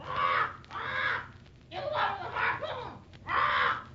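Parrot squawks in an old-time radio drama set aboard a cruise, three loud harsh bursts with short gaps between them, close up and alone.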